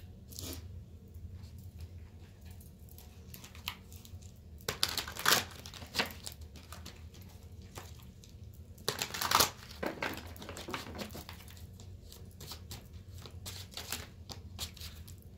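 Tarot cards being shuffled, a soft papery crinkle and riffle running throughout at low level, with sharper bursts of card flicks around the fifth and ninth seconds.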